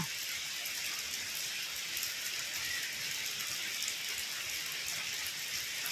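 Steady, unbroken rain falls outdoors with an even hiss and no pauses.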